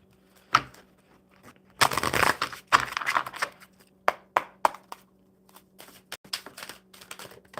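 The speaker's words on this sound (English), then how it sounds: "One more good shuffle." Crisp riffling bursts of a Magic card deck being shuffled, with a dense flurry in the middle and scattered sharp card snaps and taps afterward, close and clear.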